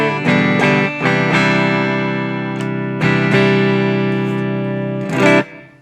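Clean electric guitar runs through a Flashback delay pedal set to the Chorus Vibe TonePrint, with sustained chords restruck every second or so and long shimmering tails, bright and close, with no talking.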